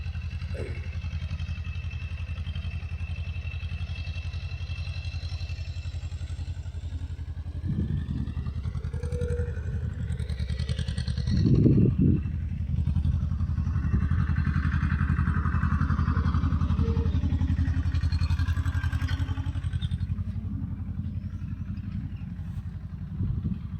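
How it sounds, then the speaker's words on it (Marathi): A tractor pulling a seven-row seed drill for maize sowing runs steadily in a field, its low engine drone continuous and close, with brief louder throttle surges partway through. "आता सध्या त्यांचा ट्रॅक्टर चालू आहे."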